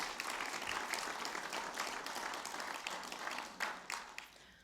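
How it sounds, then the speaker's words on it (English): Audience at the ALT annual general meeting breaks into sustained applause, a dense wash of many hands clapping that carries on steadily and tapers slightly near the end. "So if we give them a big round of applause to thank them as well."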